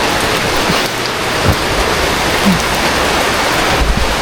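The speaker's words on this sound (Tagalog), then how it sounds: "Pambihirang ulan na to." Heavy rain pours down steadily in a dense, continuous hiss, close and loud throughout, with a few faint low thumps beneath and no voices.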